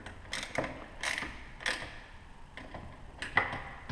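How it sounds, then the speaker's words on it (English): A socket ratchet with a metric 13 socket tightens the axle nut on a pro scooter, giving bursts of quick clicking ratchet strokes with short pauses between them, close and fairly quiet with no talking. "these nuts typically require a metric 13 socket, which I have here"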